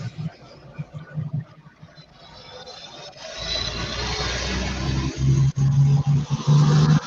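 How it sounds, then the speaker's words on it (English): A big truck passes by outside. Its low rumble grows from faint to loud over several seconds and ends in a heavy, sustained roar close by. "we got another big truck coming through. You can probably hear him."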